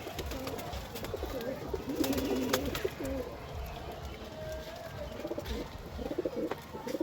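Pigeons in a rooftop loft coo in soft, repeated throaty rolls, several birds overlapping at close range, with faint chirps and light rustling around them.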